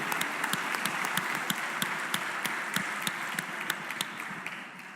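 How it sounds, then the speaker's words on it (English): Applause in a state House chamber during a floor session: a steady, moderately distant wash of clapping with distinct individual claps standing out, continuing evenly throughout. "If they would please rise and everybody give them a round of applause"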